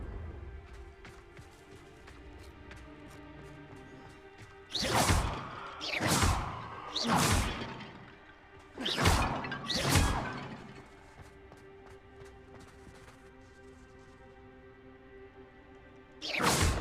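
Vases being smashed in the Hogwarts Legacy video game, heard as a quick run of five sharp whooshing crashes, then a pause and one more crash at the end, over a low background hum.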